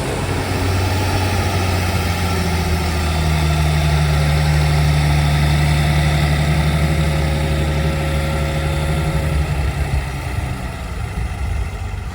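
Schlüter Compact 950 V6 tractor with a 6-cylinder 5.7-litre engine running steadily, a loud close continuous diesel drone with a deep hum and slight pitch shifts, no voices.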